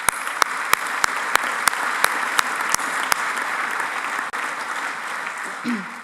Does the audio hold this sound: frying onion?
no